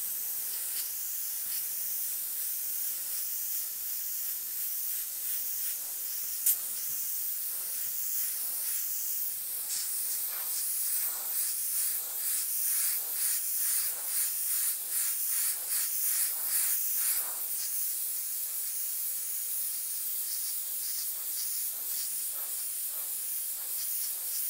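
An airbrush spraying paint downward along a masked edge, a continuous close hiss with faint pulsing variations and a brief click partway through, no voices.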